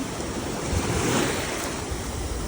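Ocean surf rolls in at Manly Beach in Sydney, a loud, continuous roar of breaking waves mixed with gusty wind buffeting the microphone, with no voices over it.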